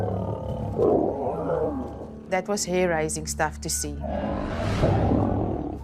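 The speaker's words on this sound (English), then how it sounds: "was roars and the most terrifying sounds." Wild lions roar and snarl while fighting, deep rumbling roars swelling at the start and end, with someone speaking in the middle.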